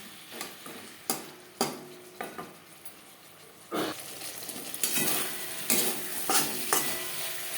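Pointed gourd is stir-fried in a pan with little oil, giving a soft sizzle under repeated scraping strokes of a spatula, close and fairly loud, growing busier toward the end.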